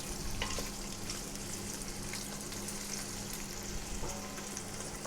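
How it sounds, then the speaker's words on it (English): Chicken pieces lightly frying in a pan over moderate heat give a steady, even sizzle with soft crackle throughout, close and continuous with no talking. "We just want to lightly fry them. Get a little bit of colour."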